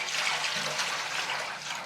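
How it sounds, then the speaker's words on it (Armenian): A steady, continuous stream of water pours into a pot, topping up one litre to make two litres for a basturma spice mixture, with a close, even splashing rush throughout. "Մենք ունենք այստեղ 1 լիտր ջուր եւ 1 լիտր էլ կլցնենք"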